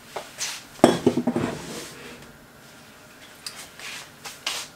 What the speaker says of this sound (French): Donc on ajoute les pommes de terre.